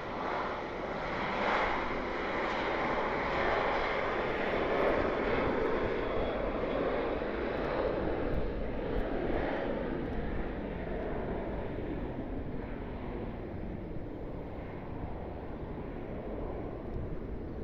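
A Boeing 727 tri-jet passes during plane spotting at John Glenn Columbus Airport, its engines producing a loud, continuous roar that holds steady, then slowly thins and fades slightly over the final seconds, with no talking.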